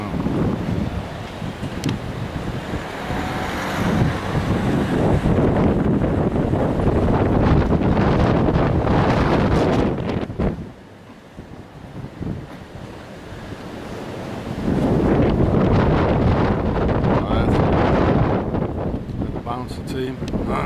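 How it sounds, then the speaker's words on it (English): Strong wind buffets the microphone in loud, roaring gusts, easing briefly midway before surging again, with surf churning underneath. "It's so windy, I can't keep my camera still."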